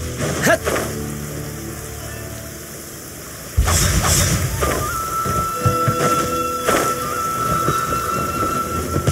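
Steady rain patters in the video game Genshin Impact, and a sharp crack of thunder breaks in partway through. The downpour continues loud and dense alongside faint tonal game sounds.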